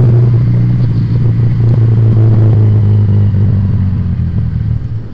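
A Regal Raptor Cruiser 350cc motorcycle on its stock exhaust idles close by with a loud, steady, deep thumping rumble and slight mechanical clatter throughout.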